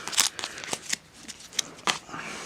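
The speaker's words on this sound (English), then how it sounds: "So I'm gonna shuffle this up." A Yu-Gi-Oh! card deck is shuffled by hand, giving a quick series of crisp riffling snaps and slaps in uneven bursts, close-up with no talking.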